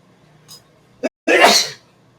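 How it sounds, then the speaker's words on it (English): A single loud sneeze bursts out after a short sharp inhale, near and isolated against quiet. "I gotta sneeze"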